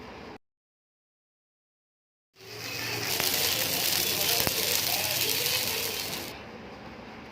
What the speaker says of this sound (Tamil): கல் சூடானதும் மாவு எடுத்து ஊற்றிட்டு தோசை ரெடி பண்ணிடலாம்